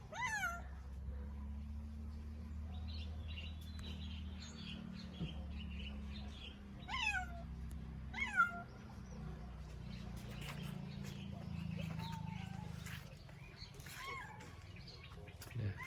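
A one-year-old cat outdoors on the ground for the first time meows in several short rising calls, moderately close, over a steady low background hum with faint bird chirps around.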